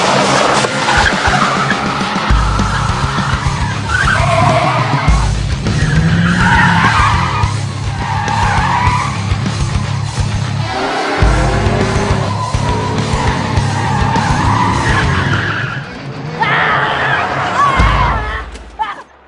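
Tires skid and an engine strains during a taxi car chase, loud and continuous with repeated squealing bursts over a busy mix that includes voices and music-like tones.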